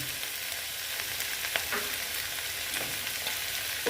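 Fish fat, egg and salt fry together for a Bengali fish-fat curry, making a continuous hissing sizzle with a few light spatula clicks over four seconds, no talking.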